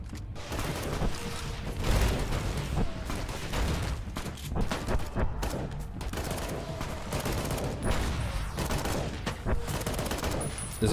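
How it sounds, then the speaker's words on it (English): Dense, continuous gunfire in the Fallout: The Frontier mod video game, with overlapping rifle shots and bursts forming a steady fusillade for the full stretch, loud and busy with no pauses. "They're just shooting blindly."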